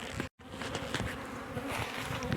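Honeybees swarm around a Beehaus hive in a dense, continuous buzzing drone, close and steady with individual insects passing near.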